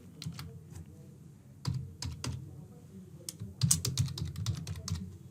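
Computer keyboard typing as payment card details are entered, a run of quick, close keystrokes with a brief pause, then a denser burst of clicks toward the end.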